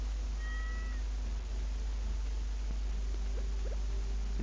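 A small game cat in Stardew Valley gives a brief, high meow early on, set over a steady low electronic hum and background ambience, with no voices present.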